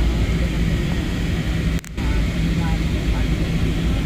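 Steady roaring drone of airplane cabin noise during a flight through thick clouds, loud and constant with one brief dip, while a person talks over it.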